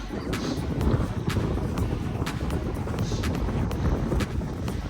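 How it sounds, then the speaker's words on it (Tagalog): Cold wind buffets the microphone in thick snow at a tobogganing area, a rough, continuous rumble with gusty surges and faint crackling bursts. "Ang hangin."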